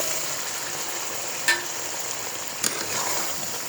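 Vegetables tossed into a pan of spice paste with turmeric and coriander powder fry with a soft, steady sizzle, broken by two brief scraping stirs of a spoon against the pan, close and fairly quiet.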